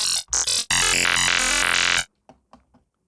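A bright, buzzy synthesizer tone from the Vital synth with a sweeping low-high flange filter, played in short stabs then a sustained note, followed by faint decaying echoes.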